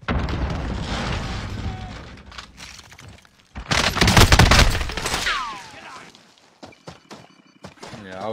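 Gunfire in Call of Duty: Warzone: bursts of rapid automatic shots and a dense, loud volley in the middle, with booms and thuds, alongside excited talk from players.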